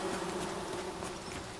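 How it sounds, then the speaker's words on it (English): Bees buzzing in the video game Among Trees, a continuous soft drone that stays steady and moderately close. "Hello, bees! You're safe for today."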